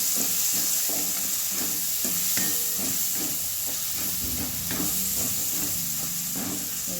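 Red chili powder gets stirred into a frying curry of sprouted matki and potato, with a steady hiss of sizzling oil and repeated scraping stirs of the spoon against the pan, close and without speech.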